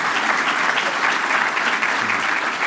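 A loud, dense round of applause from a crowd at an annual leadership event, continuous and even with no talking over it.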